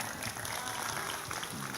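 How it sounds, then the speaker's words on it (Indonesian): An audience applauds a guest at an Indonesian religious gathering, a dense even wash of clapping from the crowd lasting throughout, with no one speaking over it. "Tepuk tangan untuk Pak Dani."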